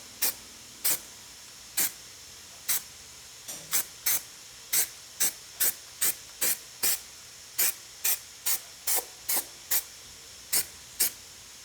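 An aerosol can sprays primer over freshly ground welds on a car body panel. Short, sharp hissing bursts repeat at an even rhythm, close and clear with no talk.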